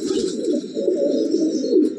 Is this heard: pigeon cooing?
yes